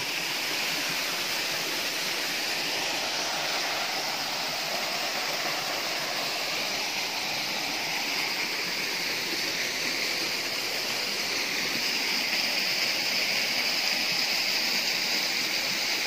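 Waterfall and stream in a forest area pour in a steady, even rush of water, continuous and moderately distant, with no voices.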